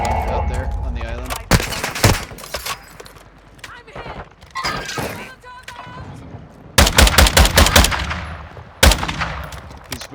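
Loud bursts of automatic gunfire crackle in the Warzone 2 video game, including rapid volleys near the end, mixed with game sounds and voices talking in between.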